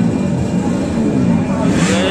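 Drag bike motorcycles revving at a crowded Bhayangkara drag race event in Banjarnegara, a continuous dense engine roar with rising pitch toward the end, loud and steady, with crowd voices mixed underneath.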